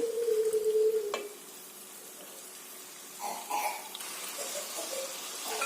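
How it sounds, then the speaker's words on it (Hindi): Chicken with tomato puree sizzling in a pan as it is stirred, a brief scrape near the start followed by a soft, steady fry with occasional louder stirring bursts, close by. "भुनेंगे चिकन को अच्छे से।"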